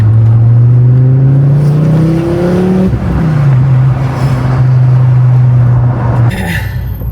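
Volvo S60R T5 with an upgraded exhaust accelerating hard from inside the cabin, a loud droning engine note climbing steadily, then a quick dip at a gear change before the note pulls up again.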